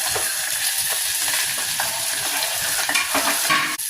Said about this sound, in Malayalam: കറിവേപ്പില, ഇഞ്ചി, വെളുത്തുള്ളി ചതച്ച് വെച്ചത്, സവാള ഇടാം.